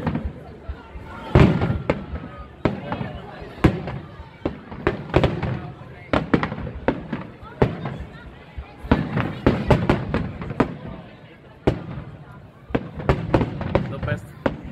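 Fireworks burst at a Bonfire Night display in Greenwich Park, loud sharp bangs and crackles arriving in an irregular rapid series while people talk nearby.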